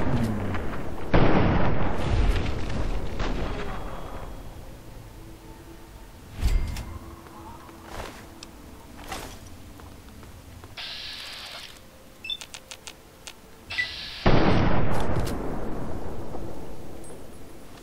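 Hand grenade blasts and gunfire in the video game Fallout 3: heavy booming explosions hit near 1, 6.5 and 14 seconds, with scattered sharp shots and quieter clatter between them.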